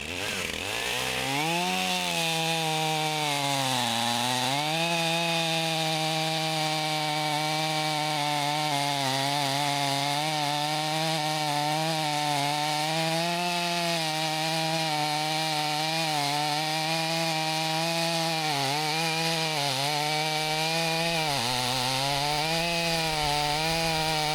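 A chainsaw fitted with a 36-inch bar cuts through wood outdoors, its engine screaming loud and steady for over twenty seconds, the pitch dipping briefly as the chain bogs in the cut and then recovering, with no talk.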